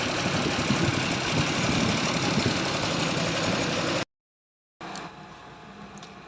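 A Suzuki Multicab engine idles roughly with a steady, uneven running drone for about four seconds, then cuts to silence before resuming more faintly with a couple of light clicks.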